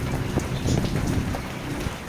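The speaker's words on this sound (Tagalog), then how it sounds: "So kahit umuulan talaga" Steady rain patters and splashes on a surface during a storm, a dense continuous wash of drops with no voices.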